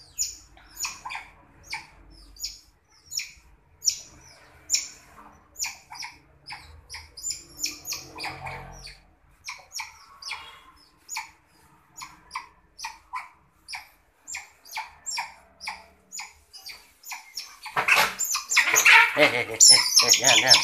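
Otters squeak and chirp in short, sharp, repeated bursts during a pairing introduction between a male and a female. The calls come steadily and close by, ending in a louder scuffling burst.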